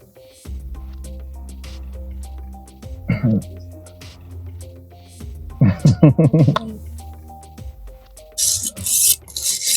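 A cutlass blade is sharpened with short rasping scrape strokes, clustered mostly toward the end, over a low musical background with brief voices.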